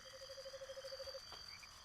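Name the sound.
frog croaking in video game My Sims Agents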